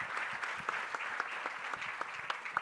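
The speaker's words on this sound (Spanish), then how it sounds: "Un aplauso." Brief, light applause from a small group at a women's basketball league season presentation, scattered claps at moderate distance.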